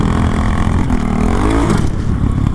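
A Honda Grom motorcycle fitted with a 17-tooth sprocket revs loud and close, its engine note climbing sharply then dropping as it accelerates, with no talking.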